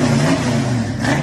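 A Ford Mustang Fastback with a built 351 V8 revs loudly and up close, a dense rumbling roar that holds steady across the short burst with no talk over it.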